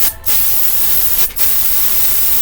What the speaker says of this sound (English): I use about 30 psi when I'm spraying.